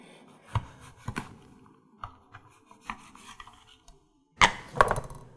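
A hand-operated rapid slicer chops food in a kitchen: a series of separate, sharp cutting clacks at uneven intervals, ending in a quick louder double burst.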